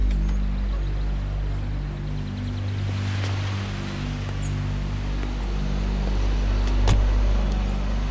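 Car engine idling nearby, a low steady rumble with faint rattles and clicks over it, no talk.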